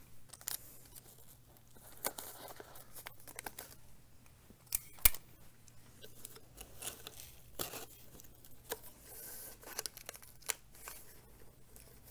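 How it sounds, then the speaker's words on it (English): Tape pulled and pressed along the base of a cardboard pulley structure, giving quiet irregular crinkling, tearing and tapping sounds with a steady low hum underneath and no talking. "continue to tape all the way along it until the structures are solid and in place."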